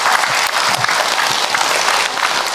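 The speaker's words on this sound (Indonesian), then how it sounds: "Tepuk tangan buat ibu tadi yang bertanya." Loud, steady applause from a congregation at an Islamic religious lecture, dense clapping filling the whole stretch with a faint murmur of crowd beneath.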